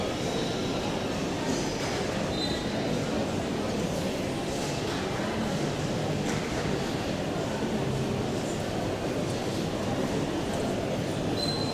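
Steady loud rumble of a train at Union Square railway station in Aberdeen on a rainy Saturday afternoon, a continuous wash of rolling noise with faint squeals.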